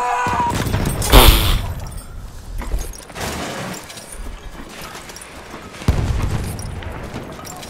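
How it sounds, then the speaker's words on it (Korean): Grenade blasts and gunfire from a shooter video game: a sharp loud burst early, then more crashing explosive hits and rumbling impacts spread across the stretch, close and harsh, with players talking over parts of it. "수류탄 개 던지네."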